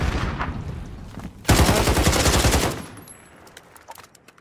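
Bursts of automatic gunfire from an SMG in a first-person shooter, a sustained loud rattle for about a second, then scattered fainter shots and clicks trailing off.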